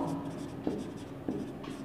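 Marker or chalk scratches across a board during a math lesson, with a couple of short strokes close by under a low voice.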